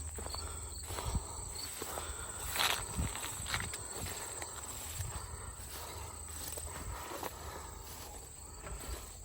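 Insects chirping in an overgrown junk yard, a steady high shrill drone with scattered rustles and faint footstep-like crunches nearby, no talking.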